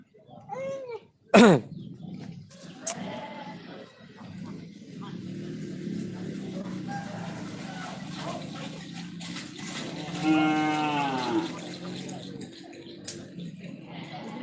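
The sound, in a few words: cattle mooing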